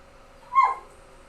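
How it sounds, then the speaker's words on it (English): One short dog whimper or yip, close and fairly clear, rising briefly over a quiet room with a faint steady hum. "I can hear my dogs. They want to eat."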